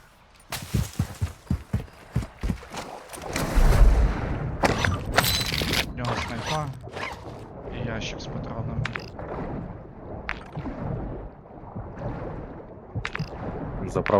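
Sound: gunshots in a video game

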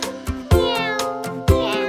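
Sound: cat meowing

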